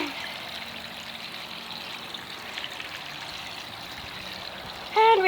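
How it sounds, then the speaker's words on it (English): Water streams steadily out of a leaking seam on an inflatable dinghy, a continuous close hiss and splash, with a short louder burst at the end. "we've got a pretty good healthy stream of water coming out of that as well"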